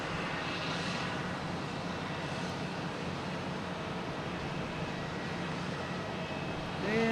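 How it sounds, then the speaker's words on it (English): An airplane flies overhead at Boston Logan Airport, a steady, fairly loud engine roar and rumble that holds throughout, with no clear speech. "Now what plane is that flying over us?"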